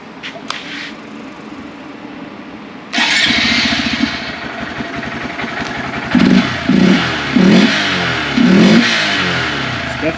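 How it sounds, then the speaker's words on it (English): A Honda Grom motorcycle with a free air intake mod starts up close by, then idles. It gives several short, throaty revs with loud induction noise, and there is no talk over it. "It's definitely louder. A lot of induction noise."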